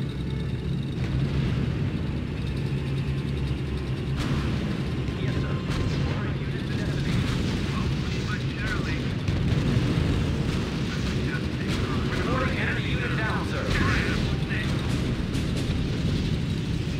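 A field artillery battalion fires in the strategy video game R.U.S.E., with a dense, continuous rumble of booming shots and battle noise that runs throughout, while voices talk over it.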